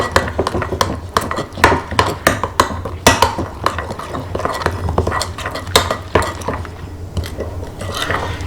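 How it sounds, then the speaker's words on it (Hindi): Piri piri chicken marinade is mixed by hand in a bowl, with continuous close scraping, clinking and sloshing strokes in an uneven rhythm. "मैं मैरिनेट बना रहा हूँ, तो इसको लेके मैं मिक्स कर लेता हूँ बहुत मज़े से"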